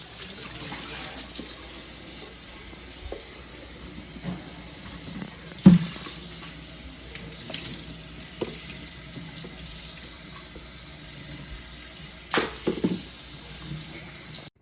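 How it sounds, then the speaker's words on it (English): Hot tap water runs steadily into a sink while the inside of a box is scrubbed by hand beneath it, with a few sharper knocks and splashes along the way. "I am using very hot water and my hand to scrub out the inside of the box."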